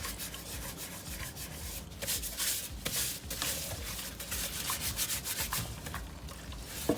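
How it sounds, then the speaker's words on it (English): Hands scrub raw chicken breasts with salt, producing close, continuous gritty rubbing and scraping in irregular strokes, fairly faint, with no speech. "Put a little salt in your hand, just like that. Get under there. Scrub those breasts really good."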